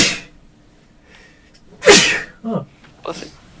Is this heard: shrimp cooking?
no